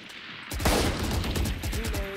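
Gunfire in the Valorant video game: a rapid burst of shots starting abruptly, dense and loud, continuing in a fast stuttering rhythm with brief tonal game effects toward the end.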